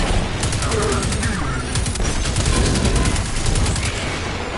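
Gunfire in the video game Destiny 2 comes as dense, rapid bursts of shots with booming impacts, loud and continuous across the whole stretch.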